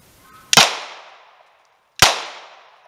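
Two sharp, loud gunshots from a Glock 17 Gen 4 pistol ring out about a second and a half apart, each cracking suddenly and decaying into a short echoing tail.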